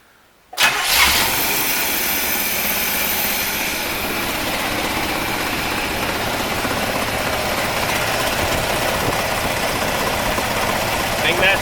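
A 1975 Chevrolet Corvette C3 convertible V8, revived after a fuel leak repair, cranks and catches abruptly, then settles into a loud, steady rough idle close by.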